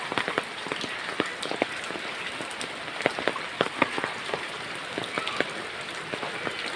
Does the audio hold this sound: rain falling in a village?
yes